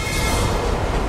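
Underground subway train departing a station, a dense, continuous rumble and rail roar with steady broadband noise, loud and close throughout with no voices.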